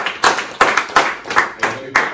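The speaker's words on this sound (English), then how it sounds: "Let's clap it up." A small group claps in loose bursts, six or so distinct volleys of hand claps spaced about a third of a second apart, close and fairly loud, with a voice faintly underneath.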